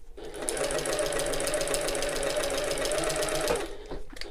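A sewing machine runs a long basting stitch through fabric for a shoulder bag, giving a steady, close, fast mechanical whirring that holds for several seconds and then stops, with no talk over it.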